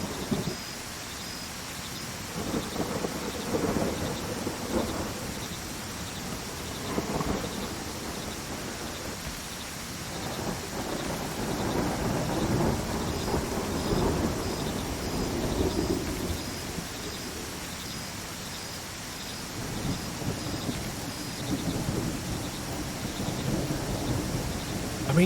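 A thunderstorm with steady heavy rain in the video game Land of the Vikings, a continuous wash of rainfall with low rolling thunder swelling and fading across the clip, fairly loud and unbroken.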